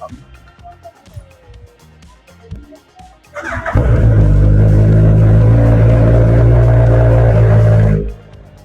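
A 2025 Ducati Multistrada 950 motorcycle engine catches and settles into a loud, steady rumble close by for about four seconds before cutting off, after a stretch of quiet talk.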